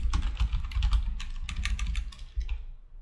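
Fingers type a ChatGPT prompt on a computer keyboard, a steady, close flurry of quick key clicks with a low room rumble beneath and no talking.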